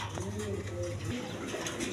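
A pair of pigeons coo softly, with low, wavering calls under a steady background hum and faint room noise.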